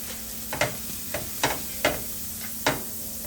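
Butter sizzles in a pan at medium heat as a rubber spatula stirs it, with a steady frying hiss broken by several short scraping strokes at an even pace.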